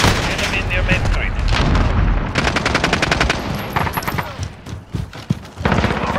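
Close, loud bursts of automatic gunfire in a Call of Duty Modern Warfare Warzone match come in rapid rattling volleys, with single shots and booms between them and game voices talking over the firing.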